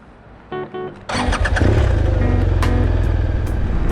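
A motorcycle engine cranks in two short bursts, then catches and settles into a steady, loud idle close by.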